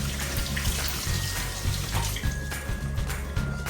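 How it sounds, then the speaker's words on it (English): Water runs and splashes steadily while roadkill is rinsed off outdoors, a close, continuous pouring with small irregular spatters. "we got to wash it off some here"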